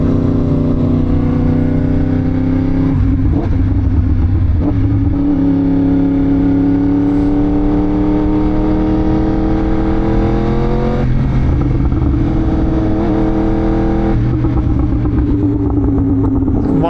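A motorcycle engine drones steadily while riding, a loud close rumble with the pitch rising and falling as the throttle changes, heard alone without talk.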